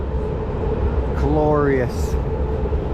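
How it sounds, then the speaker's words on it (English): An elevated train passes through Berlin, a steady low rumble running continuously under a person talking. "That's like Chicago. Elevated trains."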